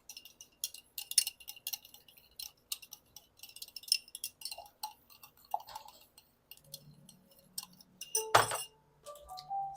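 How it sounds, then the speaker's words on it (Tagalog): Ice cubes drop into a glass for iced coffee, making scattered bright clinks and knocks at an uneven pace, with one louder clatter near the end, close and alone. "Lagyan natin ng ice. So, madaming ice."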